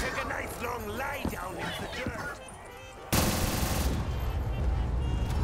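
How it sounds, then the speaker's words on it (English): Automatic gunfire in a custom zombies video game bursts out loud and continuous partway through, following game voices and talk, and keeps rattling steadily to the end. "I'm trying to shoot to save your life here."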